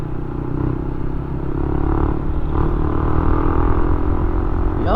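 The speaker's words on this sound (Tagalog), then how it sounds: "Sarap talaga magmotor." A motorcycle rides along the road with a steady, loud engine drone and road noise throughout, building slightly in intensity, with a quick rising whine near the end.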